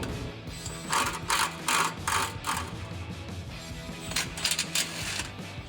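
A deep socket ratchet on an extension backs off 13mm exhaust flange nuts under a Chevy Silverado / GMC Sierra 1500, giving bursts of rapid clicking pawl sounds in several short runs, fairly close and clear.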